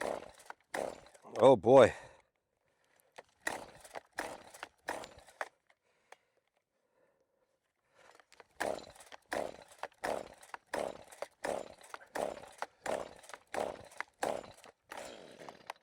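A small engine on half choke is pull-started during land clearing. It gives bursts of rapid, rasping cord pulls and sputters, then a long pause and a later run of rhythmic pull strokes, with a voice briefly speaking.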